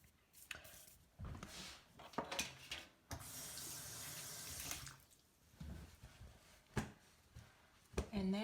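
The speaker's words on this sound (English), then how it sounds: "I am going to rinse my hands off" Hands are rinsed under a running tap at a sink, water splashing and rushing in uneven bursts with a steadier stretch in the middle, fairly quiet and close.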